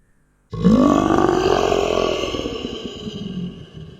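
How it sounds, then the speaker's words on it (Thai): A low, throaty growl that starts abruptly, rumbles steadily for a few seconds, then slowly fades. It is loud and close, with no other sounds. "เสียงคำรามต่ำๆ คล้ายเสียงในลำคอ ของใครบางคนที่อยากพูดเป็นมนุษย์"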